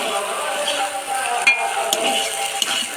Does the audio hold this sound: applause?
no